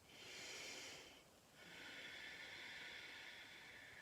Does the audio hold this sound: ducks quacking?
no